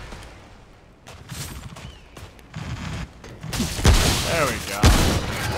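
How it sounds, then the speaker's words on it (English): Blind-fired gunfire in the game Remnant From The Ashes, a run of sharp shots that grows louder toward the end with two heavy booms, mixed with game noise, while a person speaks briefly. "I just went to blind fire him like it was Gears of War"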